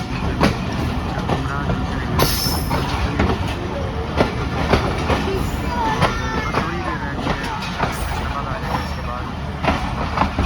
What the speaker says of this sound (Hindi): 5:52 पे 2 मिनट का स्टॉप करने के बाद शर्जुमरा जंक्शन रेलवे स्टेशन से हमारी ट्रेन बाहर कर दी है।